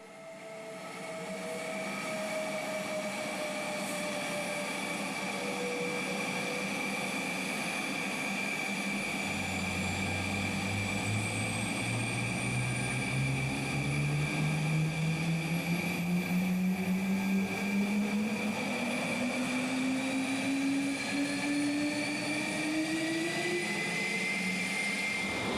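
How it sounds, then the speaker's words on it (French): Dassault Rafale M88 jet engines spooling up at start, a loud continuous roar with rising whine tones that climb steadily in pitch as the engines wind up, no talking. "Les moteurs M88 nous font entendre des sons impressionnants dès leur premier tour de fan."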